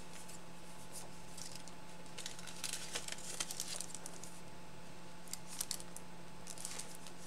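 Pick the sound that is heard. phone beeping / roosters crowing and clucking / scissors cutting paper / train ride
scissors cutting paper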